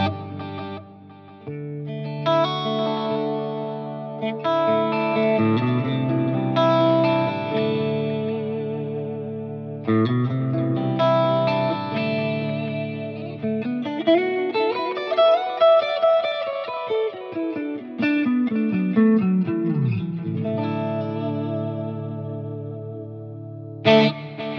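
A clean guitar preset on a Line 6 POD GO with dual delay and a stereo widener plays arpeggios and single notes, the heavy repeating echoes and a chorus-like shimmer smearing each phrase across a long, sustained passage including a rising and falling run.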